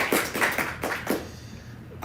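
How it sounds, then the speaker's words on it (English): A handful of scattered hand claps from a small audience at a Black History Month celebration, a few distinct, uneven claps fading out quickly into quiet. "Let's give her also a round of applause."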